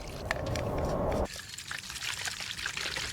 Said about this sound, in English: I raced to scoop some Gamer Subs into the shaker, poured in the remaining water